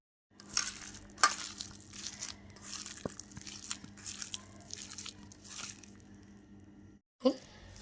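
Chicken momo filling with pepper and oil is mixed together by hand, giving soft, continuous wet squishing and crunching sounds that stop abruptly near the end.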